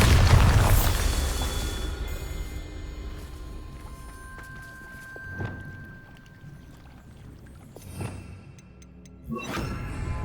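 Spell explosions from Incendio and Bombarda in the Hogwarts Legacy video game: a heavy booming blast at the start, then several sharp bursts spaced a few seconds apart over a low rumbling background.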